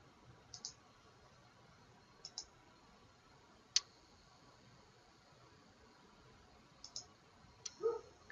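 Computer mouse clicks sound faintly in a quiet room during PC recovery work, a handful of sharp single and double clicks scattered irregularly over low background hiss.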